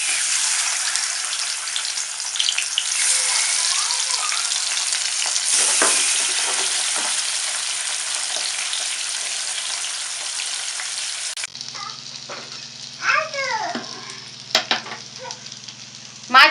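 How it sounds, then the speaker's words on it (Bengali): Salted, turmeric-rubbed parshi fish fries in hot white oil in a wok with a loud, continuous sizzle that drops to a softer crackle midway, punctuated by a few sharp clinks. "এখন আমি মাছ ভেজে নিচ্ছি।"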